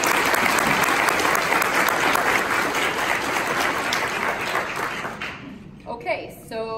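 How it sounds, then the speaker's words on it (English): Loud, dense audience applause at welcome remarks for a May 2019 nurses' event, a steady wash of clapping that thins out and fades near the end. "So a round of applause for all of you guys."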